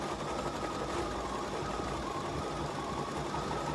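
An embroidery machine stitching a cutwork design with a cutwork foot plate, a steady rapid mechanical whirring and needle chatter, continuous and close, without talk.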